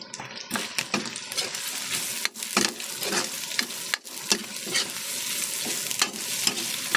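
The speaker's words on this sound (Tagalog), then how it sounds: "Habang ginigisa natin ang lamang loob" Duck innards sautéing in a pan for adobo: steady sizzling with repeated stirring scrapes and light clinks of a utensil against the pan, close by and without speech.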